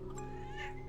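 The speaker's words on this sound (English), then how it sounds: "I love her little chirp meow" A pet cat named Despy gives a single short chirping meow, close and fairly quiet, with a lightly rising tone lasting under a second.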